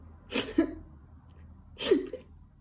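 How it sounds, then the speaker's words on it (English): Two loud, wet sniffles about a second and a half apart, close and breathy, with quiet between them. "On the pavement stood a giraffe who was sniffing sadly."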